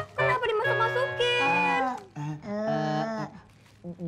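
A cat meows repeatedly in an Indonesian boarding-house setting, a few drawn-out, close, loud cries with rising and falling pitch, separated by brief pauses, followed by a short final chirp.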